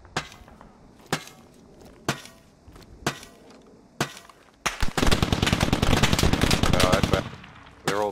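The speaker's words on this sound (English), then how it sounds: "I'm being shot at." Gunfire in the military shooter game Squad, near an armored BMP-2 vehicle, with single sharp shots about once a second, then a sustained loud burst of rapid automatic fire lasting a few seconds.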